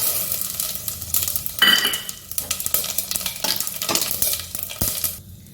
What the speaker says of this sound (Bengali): ওই জন্য গরম মশলাটা ফোড়ন দিচ্ছি